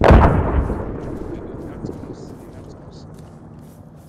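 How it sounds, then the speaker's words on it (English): In the video game Arma 3, a loud blast opens, followed by scattered booms and gunfire rumbling and fading into the distance over several seconds. "we're hearing explosions near your position"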